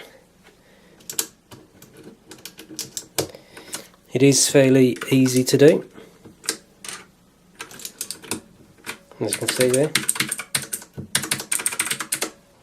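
Keycaps being popped back onto a mechanical keyboard, producing scattered sharp clicks and clacks, some close together in bursts, with someone talking between and over them.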